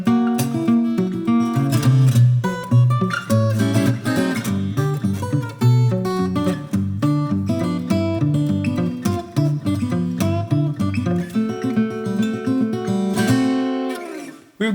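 Guitar plays the second part of an intricate picking piece, with busy picked lines over shifting chords. The playing is loud and continuous for about fourteen seconds, then cuts off abruptly, with no speech.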